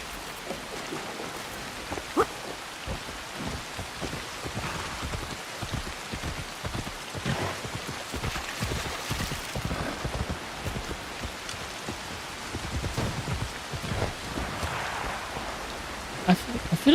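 Steady video game rain patters on a surface throughout, with scattered louder drops and a soft, continuous wash of noise, no voices.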